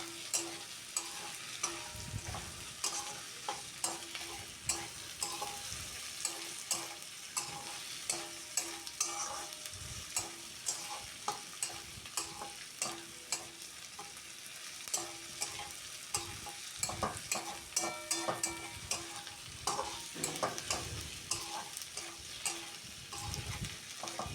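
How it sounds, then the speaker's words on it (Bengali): Potatoes, onion, tomato and green chili stir-fried in a pan: continuous sizzling with frequent rhythmic scrapes and clanks of a spatula, close and steady for the full length, with no talking. "এভাবেই উল্টে পাল্টে নেড়ে চেড়ে আলু, পেঁয়াজ, টমেটো, কাঁচা লঙ্কাটাকে আমরা ভালো মতো কষিয়ে নিচ্ছি"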